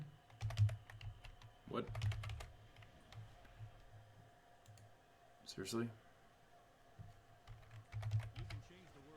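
Keys on a computer keyboard are tapped in short bursts of clicks during a Marvel Heroes live stream, close and fairly quiet, with someone talking and game sounds between the bursts.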